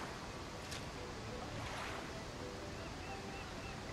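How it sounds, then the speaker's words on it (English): Ocean waves washing onto a beach in the video game Bioshock Infinite, a steady, soft surf wash with faint wind, distant and continuous, without talk. "I saw full-blown ocean."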